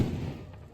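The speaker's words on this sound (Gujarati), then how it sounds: "એ તગારું મૂકીને બોમ્બ ફોડે છે, એ જોજો." A firecracker bomb bursts under an upturned metal pan outdoors at sunset: one sharp, heavy boom right at the start, then a rumbling decay that fades over the rest of the moment.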